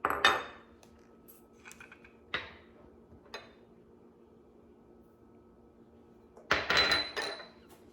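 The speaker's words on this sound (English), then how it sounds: "I'm going to combine all of my dry ingredients together" Dry ingredients being combined in a bowl by hand, heard as a few sharp clinks and scrapes of a utensil against the bowl, separated by quiet gaps and ending in a busier burst of clatter.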